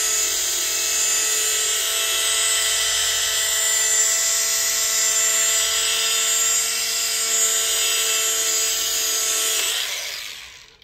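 An SPTA mini cordless rotary polisher, version 2.0, runs with a continuous high-pitched whirring drone for about ten seconds, loud and close, then spins down at the end.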